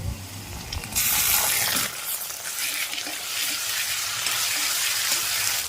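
A paste of ginger, garlic, cumin and chili hits hot oil with browned onions and sizzles loudly, then settles into a steady close frying hiss with faint stirring.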